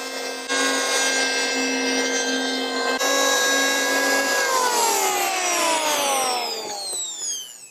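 A Bosch GHO 6500 electric planer runs close and loud as it planes wood, a steady high motor whine with a harsh cutting rasp, then the pitch slides downward as the motor spins down near the end.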